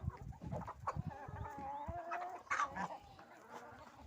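Chickens cluck in a farmyard among geese and other livestock, a dense, busy chorus of overlapping calls close by with steady background movement.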